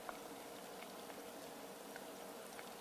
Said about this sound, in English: I let this simmer for about 15-20 minutes until it's cooked.